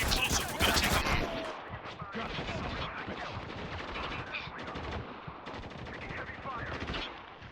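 A sustained video game firefight in Spec Ops: The Line: loud, dense machine-gun bursts and rifle fire rattle continuously, with a sharp burst up front and chaotic battle noise throughout.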